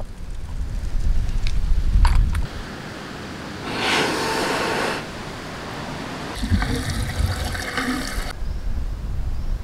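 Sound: petrol being decanted into a car tank

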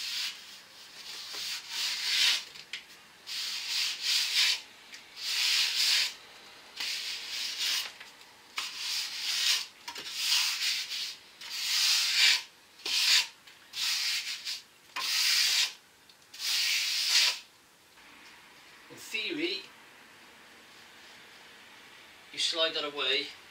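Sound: timber straightedge dragged across sand cement render

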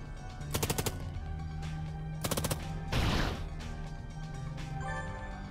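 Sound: gunshots at boss wings in video game Long Gone Days

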